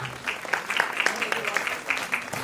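Audience at a school annual function clapping after a magic trick, a quick run of sharp claps at moderate distance with a voice talking over it.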